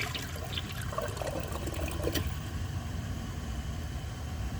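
A 2004 Gerber Aqua Saver toilet refills after a flush test, water hissing and trickling steadily into the bowl with a low rumbling background, fairly quiet and continuous.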